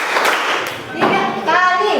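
Students in a classroom clap hands in a counted rhythm during a concentration exercise, a few sharp claps heard between a teacher's spoken instructions.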